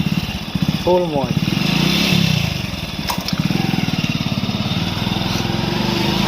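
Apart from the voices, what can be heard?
motorcycle being ridden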